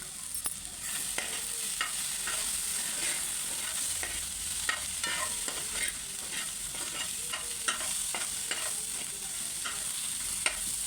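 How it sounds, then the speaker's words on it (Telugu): Onions and garlic cloves fry in oil in a pan with a constant hissing sizzle, overlaid by frequent light scrapes and taps of a stirring spoon, close and moderately quiet, no one speaking. "ఉల్లిగడ్డ వేసి ఇలా వేయించుకోవాలి. కొద్దిగా ఎర్రగా వేయించుకుందాం"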